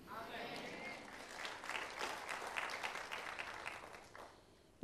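Faint, distant applause ripples through a church congregation during a Christian sermon, swelling briefly in the middle and then thinning out.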